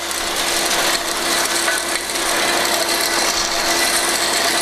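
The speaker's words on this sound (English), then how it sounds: "The vacuum has plenty of power to pick up the chips." Ruwac WS2320-HD industrial vacuum sucking up metal chips, a loud continuous roar with rattling chips and a steady hum, no talk.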